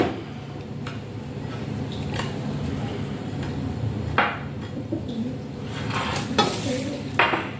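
A spoon clinks and scrapes in a bowl as fried bitter gourd is mixed with turmeric and salt, with a faint sizzle underneath and a few sharper knocks of utensils.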